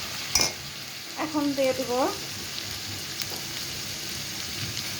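Softened onions sizzle steadily in a pan while being stirred, with a brief scrape of a utensil and a short spoken phrase partway through.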